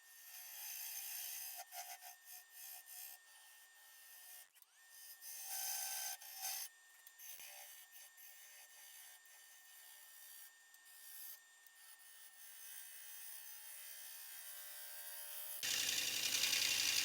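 A cherry burl blank spins on a wood lathe while a tenon with a dovetail is cut for chuck jaws, producing faint, hissing scrapes in uneven bursts that swell louder near the end.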